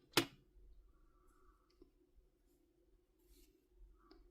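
Scissors snip crochet yarn with one sharp, close click at the start, followed by faint, sparse handling ticks in a quiet room.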